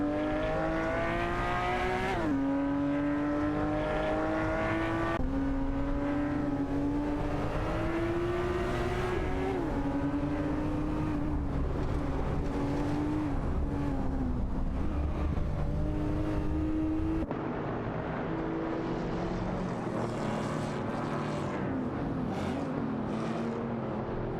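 Race cars, including a Porsche 996 GT3, howl through a racing video game. A loud engine note climbs through gear after gear, dropping at each shift, with more cars droning underneath.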